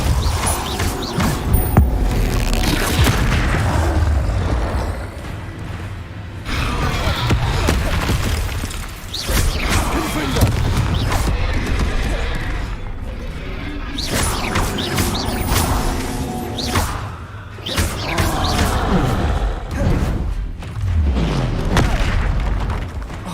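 Spell blasts and impacts in Hogwarts Legacy, including stunning, exploding and freezing charms, hit in a loud, continuous barrage of booms and whooshes while a voice shouts spell names over the combat.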